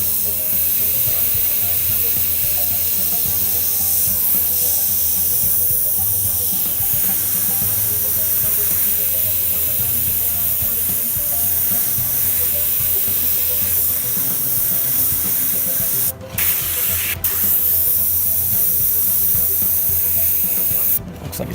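An airbrush sprays paint onto a 1978 Chevy van during a custom auto paint job, giving a steady, close hiss that runs almost unbroken with a couple of brief cutoffs near the end.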